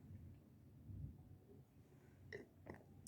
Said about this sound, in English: Oh, yeah, it's thundering outside.